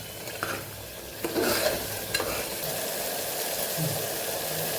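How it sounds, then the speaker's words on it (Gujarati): Masala for dum aloo frying in oil in a pressure cooker, a steady close sizzle with occasional scraping stirs and a brief louder burst partway through, no voices. "અહીંયા આપણો મસાલો મસ્ત એવો સતળાઈ ગયો છે અને તેલ પણ સરસ છૂટું પડી ગયું છે"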